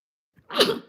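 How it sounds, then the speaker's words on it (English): A single short sneeze, sharp and close, after a quick faint intake of breath. "I'm sorry, I had to sneeze."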